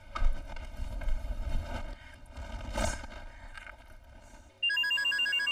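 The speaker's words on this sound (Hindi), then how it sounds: "पापा मोबाइल भूल गए और मम्मी का फोन आ रहा है।" A phone rings with a repeating electronic tone that comes in suddenly over a busy background of music and noise, loud and steady.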